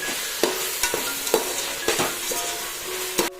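Mint and coriander leaves sautéing for raw jackfruit biryani give a steady close sizzle, with several sharp spatula scrapes and clacks against the pan spaced through it; no one speaks.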